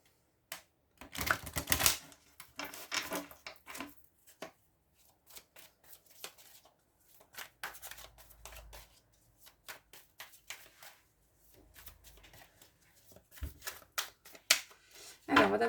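Tarot cards shuffled by hand in quick riffling bursts, near and crisp, with quieter pauses and soft card handling between them.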